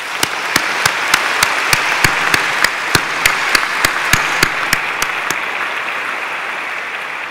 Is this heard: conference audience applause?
yes